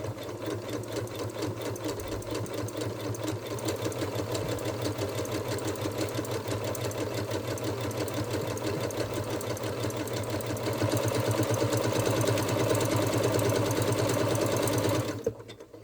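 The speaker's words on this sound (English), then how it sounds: "Okay, so I'm just going to start sewing." A sewing machine sews a satin stitch on fabric in one steady, continuous run of fast, dense needle strokes. The motor grows slightly louder near the end, then stops abruptly.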